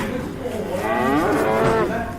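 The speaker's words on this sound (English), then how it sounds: "Yeah, it was a cow." A cow lets out a single loud, drawn-out moo that rises and falls, close by over a steady background hum.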